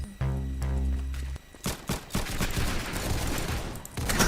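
Gunfire in the Roblox game Arsenal, loud rapid bursts of shots with a stretch of continuous automatic fire that ends in dense crackling, close and unbroken by talk.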